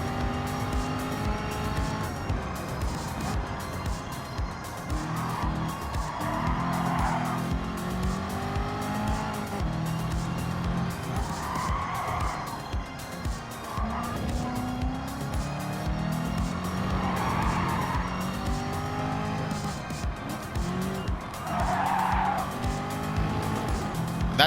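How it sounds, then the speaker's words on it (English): Tires squeal in repeated long screeches from a race car in a racing video game, laid over a steady engine drone for a lap at Michelin, with no talking. "That tire squeal, I don't know why."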